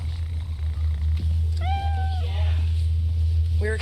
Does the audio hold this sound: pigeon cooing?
no